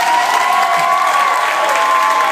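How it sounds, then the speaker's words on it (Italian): A crowd at a nightclub event claps and cheers in a loud, dense burst that stays steady for a couple of seconds. "Io vorrei un grosso applauso a tutti voi che stasera siete stati qua."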